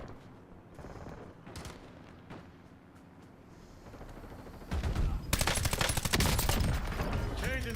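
Bursts of rapid gunfire in a video game battle, sparse shots and thuds at first, then dense, loud automatic fire erupts in the final seconds, with brief radio-style game voices earlier.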